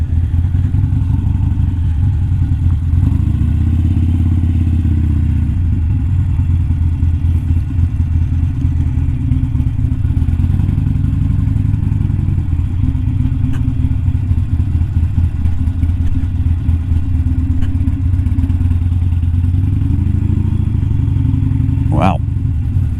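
A Sportster motorcycle engine rumbles steadily while riding, with a low continuous drone and clatter throughout and occasional faint background sounds.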